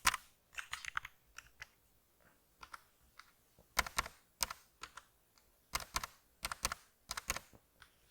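Typing on a computer keyboard while coding a simple HTML and CSS website, with bursts of rapid close key clicks separated by short pauses, no talk.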